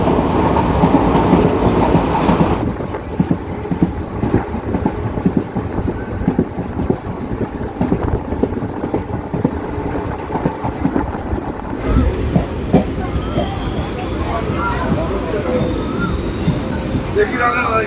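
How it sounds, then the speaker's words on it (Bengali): A Digha special train, running from Santragachi toward Digha, rattles along at speed with a steady, loud clickety-clack of wheels and a rushing roar from inside the carriage, buffeted by wind; a voice talks over it in places. "ট্রেনের স্পিড খালি দেখুন, খুব জোরে কিন্তু ট্রেনটা যাচ্ছে।"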